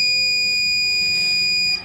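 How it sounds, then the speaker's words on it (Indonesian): The buzzer of a simple water level sensor circuit sounds as a steady, continuous high electronic tone at moderate loudness, cutting off near the end. "keempat LED dan buzzer akan menyala bersamaan."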